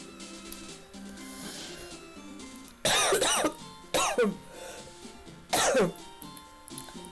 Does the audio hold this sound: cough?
yes